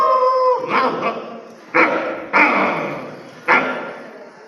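A voice imitates a barking dog with a long opening yowl followed by three sharp, loud bark-like bursts spaced about a second apart, close to the microphone.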